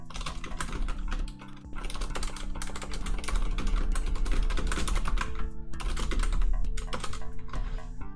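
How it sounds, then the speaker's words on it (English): Fast, steady typing on a computer keyboard, the clicks close and dense with only brief pauses between bursts, over a low background hum and no speech. "Okay, I'm just gonna be typing a bit here."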